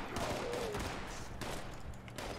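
Raiders shooting at the player in Fallout 76, a dense, continuous rattle of overlapping gunfire at moderate loudness with sharp reports cutting through.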